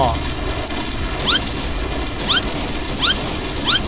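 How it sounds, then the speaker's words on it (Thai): Sniper rifle fire in the Point Blank online shooter game, sounding as four sharp, loud reports spaced roughly a second apart, each with a quick mechanical action, over a busy game background. "มาถึงก็มีเสียงบาเลตแล้ว"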